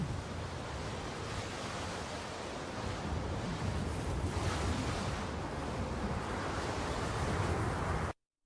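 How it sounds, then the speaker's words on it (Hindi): Strong wind roars steadily as a dense, loud rushing wash for about eight seconds, a sound effect in an animated horror story set in a forest, then cuts off abruptly. "उसने तेज हवाओं का शोर सुना"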